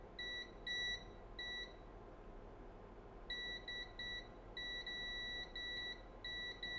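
A multimeter on continuity mode gives sharp, high beeps as its probes test a capacitor on a phone circuit board, in short repeated bursts of varying length separated by quiet gaps.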